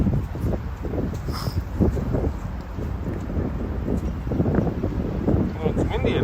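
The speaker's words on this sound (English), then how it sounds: "Well, it's windy enough." Cold wind blows through a downtown Toronto park and buffets the microphone in uneven low rumbling gusts, with indistinct voices faintly underneath.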